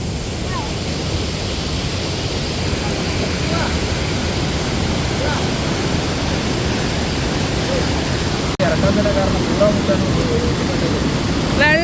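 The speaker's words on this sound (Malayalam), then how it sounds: "വീണ് പോകുമ്പോൾ നല്ല പവർ ഉണ്ട് വെള്ളത്തിന്" Steady, powerful rush of a waterfall in Idukki, Kerala, on the Kattappana route, fills the whole stretch, a dense close roar with faint voices murmuring underneath.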